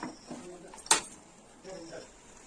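A metal spoon scraping and clinking against a cooking pot while stirring washed chicken pieces for chicken kuruma, one sharp clink amid soft scrapes, under quiet talking.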